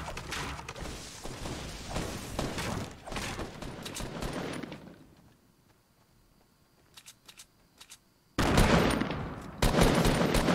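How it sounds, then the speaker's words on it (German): Rapid bursts of gunfire in Fortnite crackle loudly, fall away to near silence with a few scattered shots, then erupt again in heavy volleys. "ich höre gerade Schüsse vor mir."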